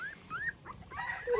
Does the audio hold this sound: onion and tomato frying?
no